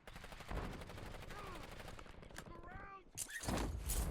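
Sniper rifle gunfire in the video game Warzone, with sharp cracks and bursts over busy, dense game noise and a few chirping tones, all fairly quiet.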